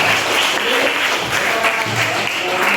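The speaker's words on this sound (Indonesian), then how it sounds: "Tepuk tangan untuk Kevin." Classmates applaud Kevin in a classroom, a lively, close burst of many hands clapping with faint voices mixed underneath.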